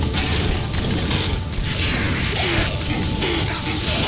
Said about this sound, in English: There's the charge bolt doing its work for me.